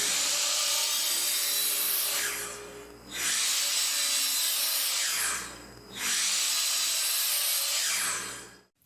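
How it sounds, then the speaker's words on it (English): A table saw rips a wood fence picket into furring strips, three long loud whining cuts with brief dips in between as the board is fed, steady and close. "So I'm going to cut a piece that's 8 inches and we'll rip that up on the table saw."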